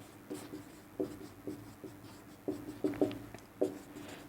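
A pen scratches across paper while a class 10 polynomial maths solution is written out: short, separate strokes and taps in an uneven rhythm, close and fairly quiet, with no voices.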